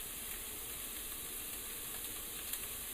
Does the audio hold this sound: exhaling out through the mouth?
no